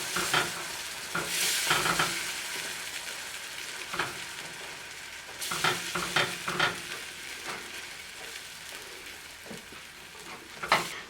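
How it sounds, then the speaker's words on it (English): A whisk works continuously through a cheese sauce in a pan, beer for a Welsh rarebit being stirred in, with a steady wet scraping and sizzle and sharper clinks of the whisk against the pan, close and fairly quiet. "at this point we want to add our beer. Continue to whisk."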